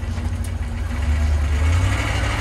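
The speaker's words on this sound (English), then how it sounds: "It's kind of like a rattly rotational noise coming out of maybe a drive shaft" A steady low rumble from underneath a rusty Range Rover, with a rattly, rotating mechanical noise from the drive shaft area that continues without a break.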